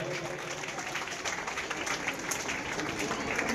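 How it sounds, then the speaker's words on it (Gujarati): A school audience at a secondary school admission festival gives sustained, dense clapping, steady and fairly loud for the whole stretch, with a murmur of voices mixed in. "આપણે જોરદાર તાળીઓથી એમને વધાવશું"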